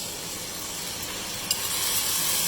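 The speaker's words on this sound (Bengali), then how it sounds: "এখন আমরা অ্যাড করব পোস্তদানা, বাদাম বাটা আর পেঁয়াজ বাটা, এই তিনটা জিনিসের মিক্সচার একসাথে" A paste of poppy seeds, almonds and onion hits browned frying onions in a pan, a steady, close hiss of sizzling oil with a brief spoon tap partway through.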